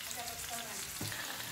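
Beef frying in oyster sauce in a pan, a steady sizzle with brief scraping stir strokes, close and moderately loud, no talk.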